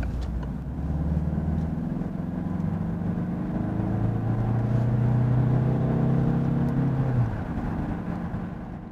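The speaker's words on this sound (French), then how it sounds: "La voiture permet des accélérations puissantes." A Peugeot HYbrid4 diesel hybrid car, rated 163 to 200 horsepower with electric motor assist, accelerates hard from inside, its engine note climbing steadily through the gears before easing off near the end.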